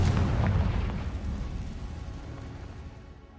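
Confringo blasting spell detonating in Hogwarts Legacy, a loud booming explosion with a deep rumble that swells early and slowly fades out over a few seconds, with no talk.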